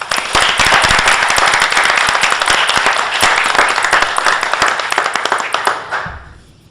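Loud, dense applause from an audience at a board meeting, steady clapping with sharp claps throughout that fades out near the end.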